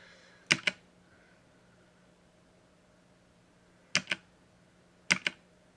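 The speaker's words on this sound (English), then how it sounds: "Dude, it's a mechanical keyboard." Mechanical keyboard keys clack in three short, sharp bursts of two or three strokes each, close and crisp, separated by quiet pauses over a faint background hum.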